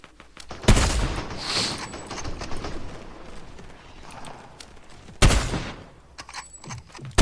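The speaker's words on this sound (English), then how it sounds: "Trying to snipe this player as they're gliding." Two loud, sharp sniper rifle shots in the video game Fortnite, fired several seconds apart, each cracking and then fading into a quieter stretch of in-game ambience.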